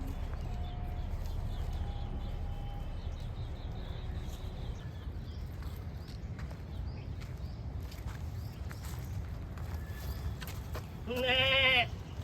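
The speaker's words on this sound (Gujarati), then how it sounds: "બકરાનો અવાજ આવે છે" A single goat bleat rings out near the end, brief and wavering, after a long stretch of low outdoor rumble and faint ambience.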